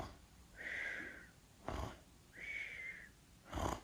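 A voice imitates snoring, with two drawn-out nasal snore tones each followed by a sharp snorting exhale, close and fairly quiet, in a repeating rhythm.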